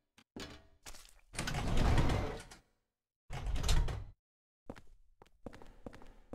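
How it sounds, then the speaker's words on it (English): Subway car doors in Silent Hill 4 sliding open after a button press: several mechanical clunks and clicks, then two long grinding slides, followed by more clattering knocks, close and alone. "There's a button here. Of course I'll push it. Which opens the car's doors."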